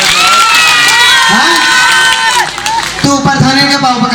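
Crowd at a live Awadhi comedy stage show cheering and shouting over clapping, loud and close. Voices rise and fall throughout the burst.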